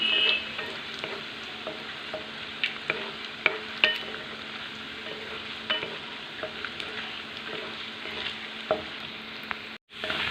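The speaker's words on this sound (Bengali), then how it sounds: "নেড়ে নেড়ে ভেজে নিই।" Oil sizzles steadily in a pan while food is stirred, with occasional scrapes and pops over a constant frying hiss.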